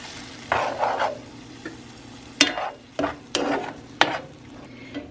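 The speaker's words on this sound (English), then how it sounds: "I'm going to stir this around" Spoon stirring ingredients in a bowl: a handful of separate scraping and clinking strokes, some sharp and some softer, spaced unevenly over a low background hum.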